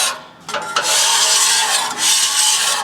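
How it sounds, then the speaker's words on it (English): A metal scraper rasps steadily across a warm Weber Slate griddle top, scraping off burnt-on pieces in long, loud, close strokes. "while the griddle top is still warm, take this scraper. You can also use a spatula and then just scrape off any burnt on pieces"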